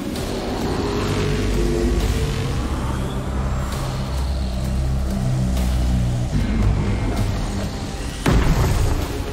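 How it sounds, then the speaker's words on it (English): A Covenant Spirit dropship closes in from the Halo TV series, a dense low rumbling roar that holds steady and swells, with deep booming hits and a sharp louder surge near the end; no one speaks. "Covenant spirit incoming"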